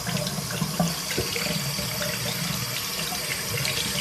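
Cold tap water runs over hands at a sink, a steady close splashing stream that shifts slightly as the hands move under it, with no talking.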